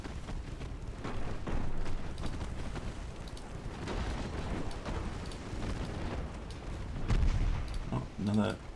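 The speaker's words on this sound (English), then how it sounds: "Oh, another torpedo launch." Torpedo launch in a British naval campaign video game, heard as a series of heavy booms and rumbling blasts over constant battle noise, with a louder burst near the end and a voice talking at times.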